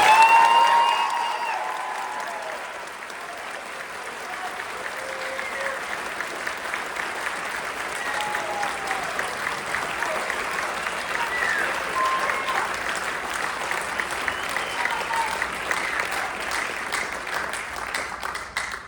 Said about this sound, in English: can we give our senior class one more round of applause?